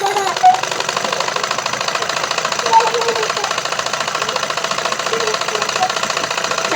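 A tailor's sewing machine runs continuously, a loud steady rapid mechanical rattle and hum up close with no pauses.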